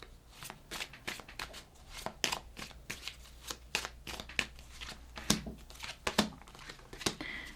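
Tarot cards are shuffled close up in a steady run of soft, crisp riffles and flicks, with the brief rustles coming irregularly and no voice over them.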